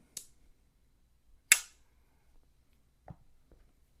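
A sharp metallic snap rings out twice as the blade of a RoseCraft Piney River Peanut pocket knife clicks shut, followed by a couple of softer clicks in otherwise quiet surroundings.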